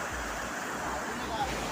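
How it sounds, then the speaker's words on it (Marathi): A small stream of the Shivarba waterfall near Kolhapur gives a steady, close rush of falling water. The hiss is dense and unbroken, with some wind buffeting. "हे आपला पहिला छोटा धबधबा."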